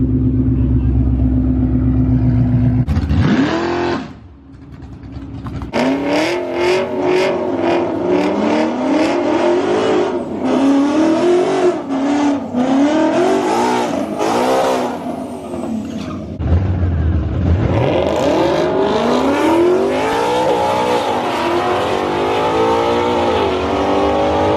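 Chevrolet Camaro ZL1 and Ford Mustang GT500 on a street race, engines roaring loud and close with repeated revs rising and falling, a brief drop near the start before sustained throttle blips and a final surge.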